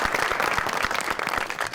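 Brief burst of audience applause at a comedy show, a dense, close patter of many hands clapping throughout, with faint crowd murmur underneath.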